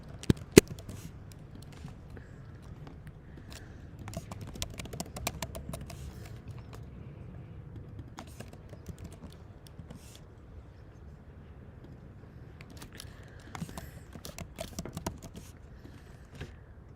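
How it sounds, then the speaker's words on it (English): Computer keyboard typing during a casual online chat setup, scattered light key clicks in short irregular bursts, faint and close, no voices. "while you're typing it in"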